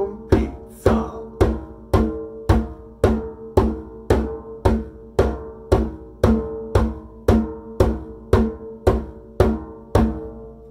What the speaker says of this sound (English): so I was able to play my mushroom pizza rhythm